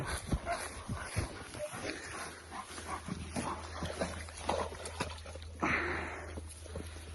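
Dogs bark and yip in short bursts outdoors during a forest walk, some close, over a steady low hum and scattered background noise.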